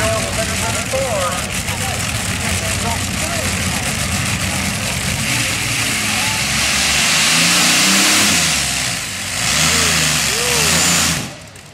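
A twin Allison-powered modified pulling tractor roars loudly and continuously at a county fair tractor pull, its engine note rising and surging near the end before cutting off sharply.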